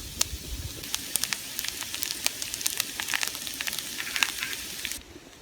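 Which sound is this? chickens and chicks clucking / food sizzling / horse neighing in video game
food sizzling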